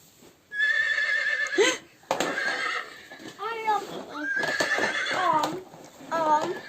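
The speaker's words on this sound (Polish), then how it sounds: "Pewnie, że konik. Jasne, że konik." Several loud horse whinnies come one after another, with clip-clopping hooves between the neighs.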